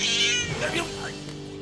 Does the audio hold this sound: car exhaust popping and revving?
no